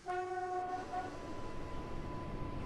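A Class 484 electric train on the Island Line to Shanklin pulls away in Train Sim World 3, giving a brief tonal horn blast before a steady whine and rolling rumble continue, close and constant.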